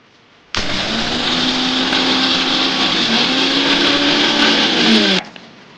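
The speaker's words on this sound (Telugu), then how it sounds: "మిక్సీ చేసుకుందాం." A mixer grinder grinds cooled tempering spices for a ridge gourd roti pachadi: a steady, loud motor whine starts abruptly, runs unbroken for about five seconds and then cuts off, with no talking.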